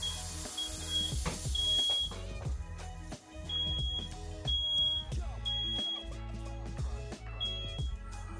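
A smoke alarm in a basement, set off by haze from a water-based fog machine, shrieks in repeated sharp high beeps, loud and close, among other electronic tones.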